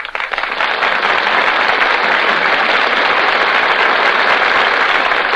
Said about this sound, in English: That applause you hear, ladies and gentlemen, tells you that our stars have just come out before the footlights